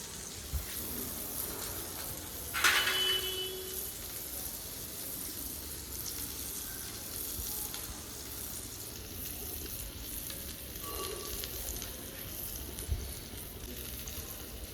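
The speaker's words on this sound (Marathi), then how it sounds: "आणि कसा चरचर आवाज येते बघा" Chicken pieces sizzling as they fry in a pan for chicken kaul fry: a steady close crackle and hiss throughout, with a brief clink of a utensil early on and no talking.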